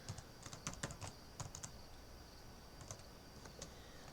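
Quiet computer keyboard typing, a few scattered clusters of light key clicks with pauses between bursts, close and soft, no voices.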